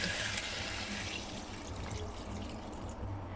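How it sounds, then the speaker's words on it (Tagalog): Water poured steadily into a pan over soy sauce and sugar for braised chicken feet, a continuous close, full rushing pour with no talk. "At syempre, lagyan na natin ng tubig."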